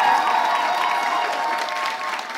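An audience at a live French event applauds with some cheering, a steady wash of clapping that fades slightly toward the end.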